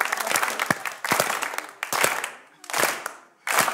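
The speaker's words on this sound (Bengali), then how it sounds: "but clue wise I think O deserve করে একটা স্লো ক্ল্যাপ" Applause at a Guess the Star game show comes in several bursts of crowd clapping separated by short pauses, loud and close, with talking over it.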